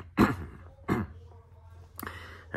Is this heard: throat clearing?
yes